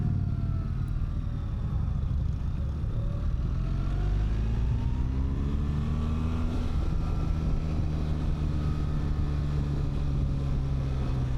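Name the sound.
BMW R 1300 GS Adventure motorcycle accelerating in Dynamic Pro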